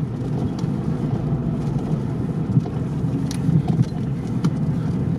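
A car on an icy off-road track during the 2020 season-closing run, its engine a loud, steady low rumble with rough wind-buffeted noise as it overtakes.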